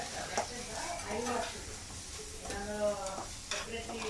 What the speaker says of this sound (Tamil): கறி லீவ்ஸ் போடுறேன்.